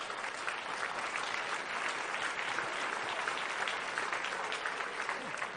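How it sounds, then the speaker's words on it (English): A big round of audience applause after a panel discussion, steady dense clapping at moderate volume throughout. "Big round of applause."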